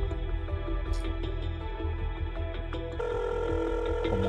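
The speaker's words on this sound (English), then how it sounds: "Pick the phone, you ingrate." A telephone rings repeatedly in a dramatic TV scene, its steady electronic trill pulsing in a regular rhythm over a dense background of music or ambience, loud and close, with no talk.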